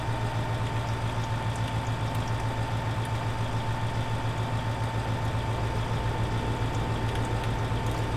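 A tractor engine in Farming Simulator 2015 runs steadily at a constant low hum with a droning tone, loud and unchanging throughout, with no talk over it.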